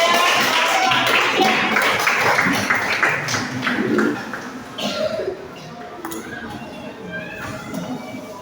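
A classroom audience at a teacher-training exam session applauds, with dense clapping for about four seconds before it thins out under murmuring voices.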